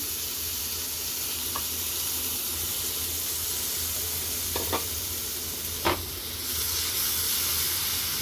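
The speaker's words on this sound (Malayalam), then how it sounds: "തക്കാളി നന്നായിട്ടൊന്ന് വാട്ടിയെടുക്കണം" Tomatoes frying in a pan for an egg roast sizzle steadily and closely, with a few soft spoon clicks and stirring scrapes on the pan surface.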